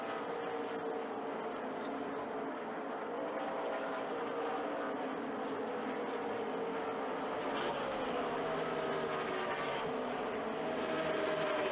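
NASCAR stock cars race at Auto Club Speedway in California, a steady, continuous engine roar from the field that swells slightly toward the end, with race commentary running over it.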